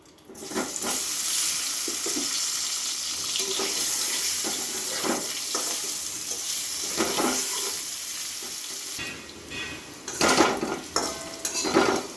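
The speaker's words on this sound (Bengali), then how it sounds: "ওই তেলে আমি আলুটা ভেজে নেব।" Potatoes frying in a pan of oil crackle and hiss steadily, broken by the clink and scrape of a metal utensil against the pan, with louder clattering toward the end.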